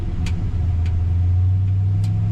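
A 1958 Chevrolet Apache truck on the road, its engine and exhaust giving a deep, steady rumble with a low droning hum, close and continuous, with a few faint higher clicks riding over it.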